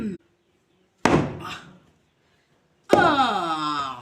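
A young coconut shell is cracked open by hand without a knife, giving two sharp, separate cracking impacts close up. A voice follows the second crack.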